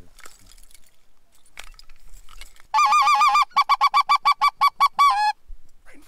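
Canada geese honking near a gravel pit on an Alberta hunt, loud and close: a sustained burst of calls followed by a rapid series of separate honks, over a quiet background with a few faint knocks.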